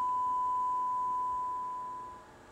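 A steady single-pitch test tone plays from a Heathkit AR15 solid state receiver through its speakers in a room, holding evenly before fading down toward the end.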